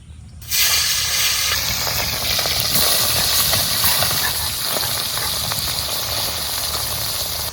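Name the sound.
tangra fish sizzling in hot mustard oil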